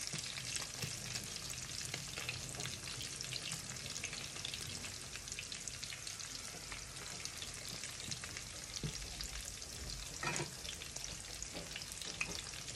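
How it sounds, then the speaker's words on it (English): Small whitebait fish sizzle and crackle steadily in hot oil, a constant close frying hiss with occasional louder pops. "So we are still in the middle of frying the white bait now."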